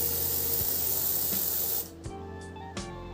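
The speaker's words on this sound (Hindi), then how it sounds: "इसको एक बार स्प्रे करते हैं।" Dove deodorant aerosol sprayed in one long continuous hiss lasting nearly two seconds, close and loud, then cut off, followed by a few faint clicks and handling taps.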